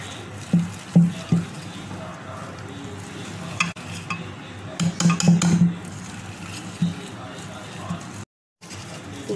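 Icing sugar being stirred into brownie batter in a bowl for a no-oven chocolate fudge brownie, giving soft scraping strokes and a few spoon-on-bowl clinks, close and moderately quiet, with brief gaps and no speech.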